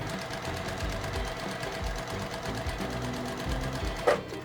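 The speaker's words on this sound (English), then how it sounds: "You're gonna sew down both sides like we normally would." A sewing machine stitches down both sides of 3.5 inch fabric squares in a steady, continuous mechanical whir, with a brief clack near the end.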